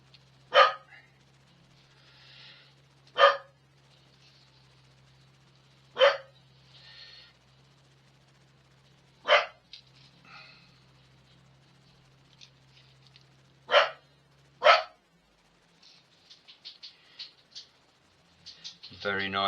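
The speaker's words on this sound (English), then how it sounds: "My dog's heard somebody near the door." A small dog gives several sharp, isolated barks spaced seconds apart at someone near the door, fairly close and loud against a quiet room with a low steady hum.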